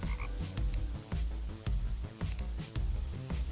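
Nuclear toads croak during the Acid Rain event in the Terraria Calamity Mod video game, a rapid series of rough, pulsing croaks repeating steadily at close range.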